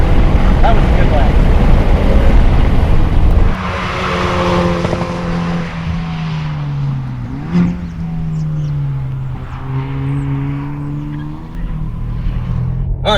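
A Hyundai Veloster N is driven hard on a race track: a loud near engine note climbs and drops through gear changes, with harsh rasping revs at first, then rising and falling pitch sweeps and brief shifts, under light talk.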